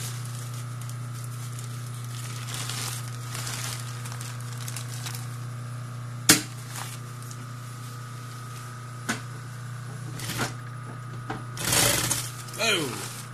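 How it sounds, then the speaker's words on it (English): A sewing machine stitches together cut pieces of bike cover fabric, a steady mechanical whir running throughout with a few brief clicks and rustles over it. "let's start stitching them together"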